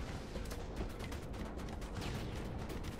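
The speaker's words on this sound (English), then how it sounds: "The explosion's going to kill me." Grenade blast in Halo 3, a loud burst of dense explosive noise with crackling debris that fills all three seconds without letting up, with no voices over it.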